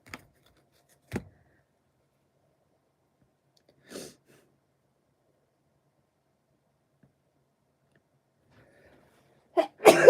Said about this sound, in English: Oh, I feel a sneeze.